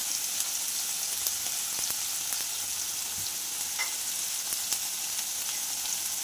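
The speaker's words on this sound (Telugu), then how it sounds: "ఒక స్పూను అల్లం వెల్లుల్లి పేస్ట్ వేసుకోవాలి." Ginger garlic paste frying in hot oil in a pan for mushroom curry, a steady dense sizzle with a few faint stirring taps, even and close with no voices.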